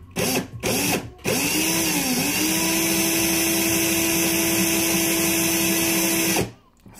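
A power drill running in slow mode winds wire for a pitchfork build, a steady close whirring motor with a constant tone lasting several seconds after a few brief starting bursts.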